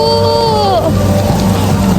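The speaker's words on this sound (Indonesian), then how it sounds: "Hujan es batu, guys." Hail falling on a Hongdae street in Seoul on an autumn night, a dense, steady patter spread across the whole moment, with a brief gliding tone fading out near the start.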